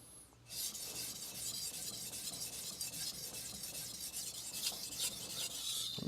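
A German steel knife is drawn across a 1000 grit Shapton whetstone, giving a faint, continuous gritty rasping and scraping that is close but quiet, with no clear gaps between strokes.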